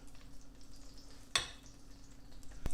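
Beef fat and a little butter, about half a tablespoon, sizzling in a soup pot; soft, steady crackle with a sharp clink partway through and another brief knock near the end.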